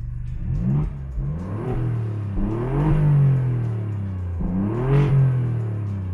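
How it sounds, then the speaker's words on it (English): Alfa Romeo Giulia GTAm with exhaust valves open revving repeatedly, several rising and falling engine pulls with deep burbling rumble, loud and close, without voices. "Exhaust system is the same of the GTA, but here it has less soundproofing material"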